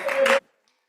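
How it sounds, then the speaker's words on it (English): A brief burst of clapping in the Wyoming Senate chamber welcoming a visitor, loud for under half a second and then cutting off into near silence. "I want everyone to give him a round of applause and say hello if you get the chance."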